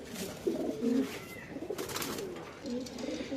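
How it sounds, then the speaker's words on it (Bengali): Pigeons coo in low, soft rounded calls, a few repeated phrases close by, with faint background rustle and chatter. "এই দুইটা কিন্তু অনেক ভালো কবুতর"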